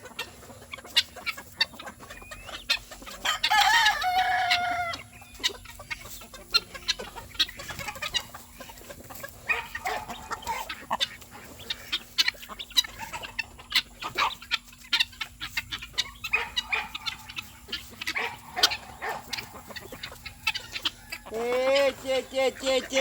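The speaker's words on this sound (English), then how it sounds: "Chickens on the roof!" Free-ranging homestead chickens cluck repeatedly at close range, with a rooster crowing near the end, over a busy farmyard background while a person calls out now and then.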